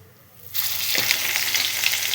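Spiced fish pieces dropped one at a time into a small amount of hot oil, bursting into a loud, steady sizzle after a quiet start that continues unbroken.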